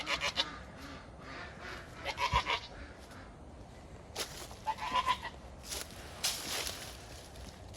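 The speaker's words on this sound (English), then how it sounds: "It's my goat." A goat bleats several times in short, separated calls, close by, with footsteps and light rustling moving around between the cries.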